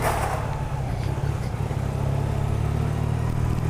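A Honda CBZ motorcycle engine, freshly serviced, idles and rumbles steadily up close, a low throbbing drone with no pauses.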